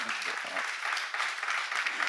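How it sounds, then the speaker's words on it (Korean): Church seminar audience applauding in a hall, a dense, continuous clatter of many hands clapping that sustains for a couple of seconds, with a brief voice heard at the start. "박수 한번 더 주세요"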